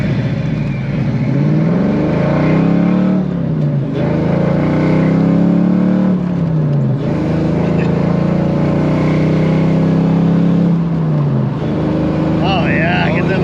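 A Fox body car's engine is revved hard several times, each run climbing to a loud, close howl before dropping back to a rumbling idle, in a repeating rise-and-fall pattern.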